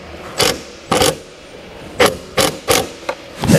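A quarter-drive ratchet with a 10mm socket tightens the bolts of towing mirrors on a Toyota Landcruiser 70 Series, loud close bursts of ratcheting clicks in about seven short spurts separated by pauses.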